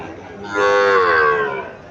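A Sahiwal calf gives a single moo of about a second, loud and close, the low tone swelling then fading, with faint background noise on either side.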